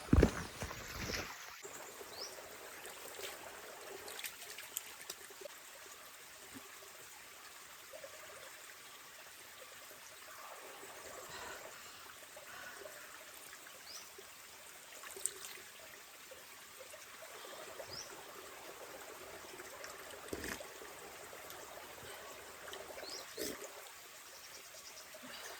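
A flowing stream of water trickles and gurgles in a steady, moderately near wash of noise, running alone without any voices.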